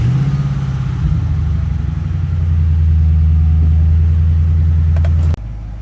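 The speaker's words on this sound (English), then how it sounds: "clutch to the floor and start it" A car engine rumbling loud and close at idle, its tone shifting slightly about a second in, then holding steady before cutting off abruptly near the end; no voices.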